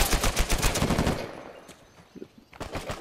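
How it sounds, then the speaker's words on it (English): Rapid automatic gunfire rattles loudly in an Uncharted 4 multiplayer match for about a second, then drops to quieter scattered shots before another loud burst near the end. "Who's shooting me?"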